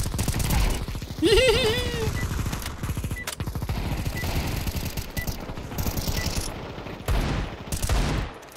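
A Negev machine gun in Counter-Strike 2 fires long, rapid bursts of dense gunfire, loud and close, with brief breaks between volleys and a short voice-like squeal near the start.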